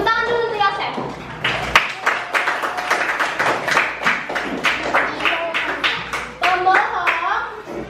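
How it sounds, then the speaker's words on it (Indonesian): A class of schoolchildren claps for their classmate Yosef in a classroom lesson, a loose burst of many small hands that thins out over several seconds, with a teacher's voice and children's chatter mixed in. "Tepuk tangan dulu untuk Yosef."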